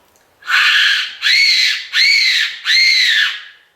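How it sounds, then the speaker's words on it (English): A Tenterfield fox whistle sounds four rising, wavering calls in a steady sequence, each about half a second long, loud and close with short gaps between them. "Now the other good thing to use with Tenterfield whistle"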